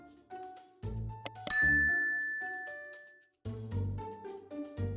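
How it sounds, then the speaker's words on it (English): A bright notification bell dings several times over a light musical backing, with clear ringing tones that decay slowly, fairly close and moderately loud. "don't forget to hit the notification bell"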